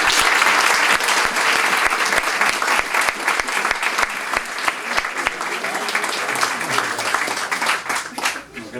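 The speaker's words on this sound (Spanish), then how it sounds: "les pido un fuerte aplauso para ellos" Dense, sustained applause from an audience at a novel presentation, loud and steady with sharp individual claps standing out, easing slightly toward the end.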